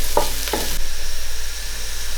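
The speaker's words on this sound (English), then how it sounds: "We will continue to stir the onion in the pan till it becomes a golden brown colour." Onions frying in a pan for a south Indian beef curry, with two quick scraping strokes of a spoon early on, then a steady, close hiss of sizzling oil continuing alone.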